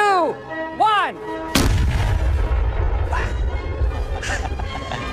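A single huge cannon blast booms out after a brief voice, followed by a long rumbling echo with scattered shouts and whistles in the background.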